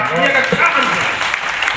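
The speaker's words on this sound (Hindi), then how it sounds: "दोनों के लिए आप तालियां बजाइए" Steady applause from the audience at a Hindi kavi sammelan (poetry recital) fills the whole stretch as a dense, even roar of clapping, with a voice faintly audible through it.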